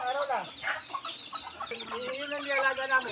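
Rhode Island chickens mixed with other breeds in a rural provincial yard cluck and call continuously, several birds overlapping at close to moderate distance with steady farmyard background.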